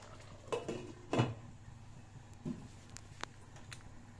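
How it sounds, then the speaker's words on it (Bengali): A spoon stirs a pot of bottle gourd and chana dal curry, giving a few soft, faint clinks and scrapes against the metal pot at irregular intervals, spread out over the quiet stretch. "দিয়ে আবারও একবার নাড়াচাড়া করে একটুখানি ফুটিয়ে নেব"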